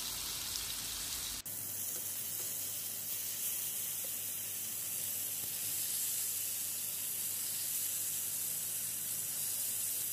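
Hamour fish frying in a pan for fish masala, a steady loud sizzling hiss that starts abruptly and holds evenly throughout, with no voices.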